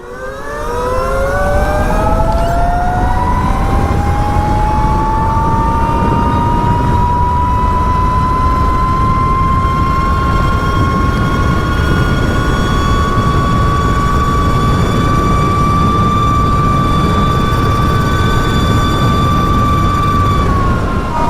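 A carbon fiber Sur Ron electric dirt bike in sport mode at full throttle gives a loud, rising motor whine that climbs in pitch over the first few seconds, then holds a steady high electric howl over wind rumble.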